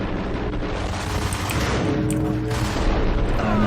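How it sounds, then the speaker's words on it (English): Dense rumbling gunfire and booming blasts in the video game Max Payne, with a thick, continuous low roar, loud and unbroken throughout. "I can't tell where that gunfire's coming from"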